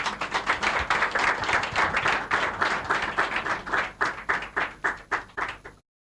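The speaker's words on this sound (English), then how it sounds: "Make one clap for him." A small group claps in a steady rhythm for several seconds, the claps thinning and spacing out before stopping abruptly.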